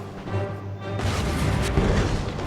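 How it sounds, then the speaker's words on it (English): Heavy cannon fire in an Empire: Total War battle: a low rumbling volley swells into a sustained, dense barrage of booms and crackling blasts that stays loud and continuous to the end, with no talking. "And they are under cannon fire."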